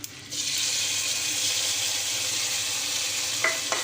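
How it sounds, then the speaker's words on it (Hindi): Hot oil tempering with curry leaves is poured into Hyderabadi mirchi ka salan. A sudden loud sizzle bursts up and holds steady at close range for several seconds, with a couple of faint clinks near the end. "अब हम इसमें अच्छी तरह बघार लगाते हैं।"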